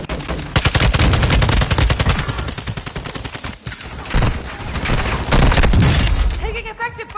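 Dense automatic gunfire rattles in rapid bursts during a Warzone match, loud and close, with brief pauses and mixed in-game voices and callouts over the shooting.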